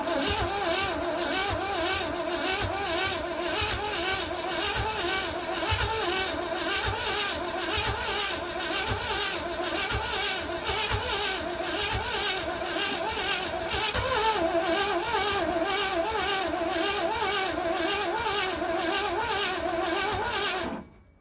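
The engine of a 1969 Chevrolet C50 truck cranks and turns over in a fast, pulsing rhythm for about twenty seconds. It is loud and close, with no voices, and stops abruptly at the end.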